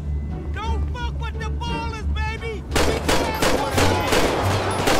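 Gunfire in GTA 5 breaks out as loud, rapid bursts of shots in the second half, after a voice talks excitedly.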